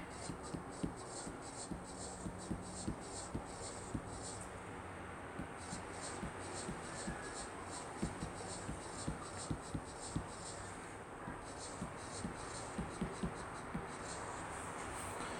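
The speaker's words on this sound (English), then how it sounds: "Let's write all this down." A pen scratches steadily across paper as notes are written by hand, a faint close scribbling with rhythmic strokes and small taps, alone and quiet.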